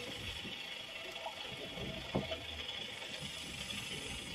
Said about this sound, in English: Bubbles.